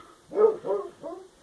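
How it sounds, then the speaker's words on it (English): A dog in New Zealand barks three times in quick succession, fairly close and moderately loud, with short gaps between the barks and quiet before and after. "That's my dog Pollux."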